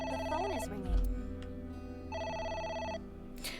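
A telephone in AI: The Somnium Files rings in two clear electronic bursts separated by a pause, with a short rising musical blip and a low thud between them, over a faint game background.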